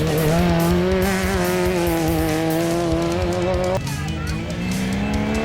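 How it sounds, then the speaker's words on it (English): A Class C off-road racing vehicle sets off at a South African race event, its engine revving loudly with rising and shifting tones, one clear gear change partway through, close and continuous, with faint talk underneath. "Johan Bloem and Jani Bloem setting off in their Class C vehicle."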